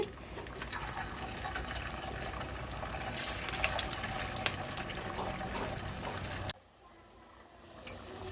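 Rava appams fry in hot oil with a dense, continuous crackling sizzle that drops abruptly to a quieter hiss for the last couple of seconds.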